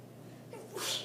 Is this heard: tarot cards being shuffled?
no